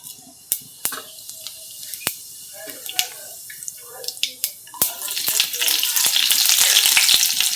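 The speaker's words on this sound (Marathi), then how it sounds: "मोहरी चांगली तडतडली की त्यामध्ये जिरं" Mustard seeds and cumin spluttering in hot oil for a tempering: sharp, scattered pops and crackles at first, building into a loud, continuous sizzle toward the end, close by with no talking.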